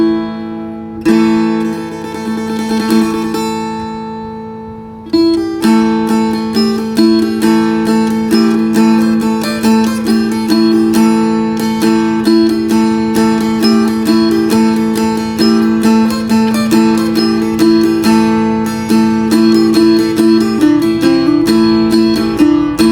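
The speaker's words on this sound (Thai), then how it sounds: "เดี๋ยวเรามาลองฟังเสียงดูนะครับเสียงโป่งธรรมดาว่าเป็นยังไงนะครับผม" Plucked acoustic phin lute strings play a bright, steady melody with repeated notes and sustained drone-like tones, continuous and up close with no voices.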